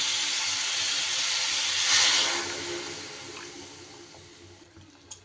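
Water poured into a pan of bitter gourd and potato being cooked with curd, a steady splashing hiss that swells briefly near the middle, then fades to a faint simmer with a small clink at the end.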